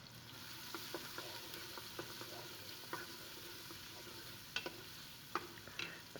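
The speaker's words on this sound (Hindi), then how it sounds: "अदरक लहसुन ऐड करेंगे। 2 से 3 मिनट के लिए जो है हमने फ्राई करना है।" Ginger and garlic frying in a pan, with onions, for aloo gosht make a quiet, steady sizzle. Light, evenly spaced taps of a stirring utensil run through it, with a few sharper clinks near the end.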